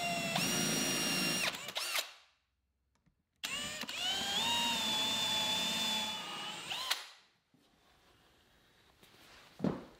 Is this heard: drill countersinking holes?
yes